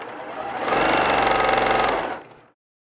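A sewing machine stitches quilt pieces in one short burst, a fast even mechanical whir that ramps up, holds steady for about a second and a half, then winds down to silence.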